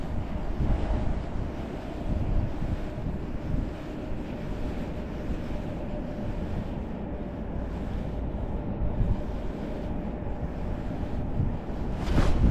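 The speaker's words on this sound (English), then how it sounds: "that wind is frigid" Cold wind blows steadily across a frozen lake during ice fishing on a lake trout trip, rushing in a constant, moderately loud roar against the microphone with no one talking.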